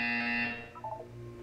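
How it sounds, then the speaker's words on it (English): A buzzer sounds in the video game Portal 2, a short harsh electronic tone that fades after about half a second, followed by quieter tonal blips. "You will hear a buzzer."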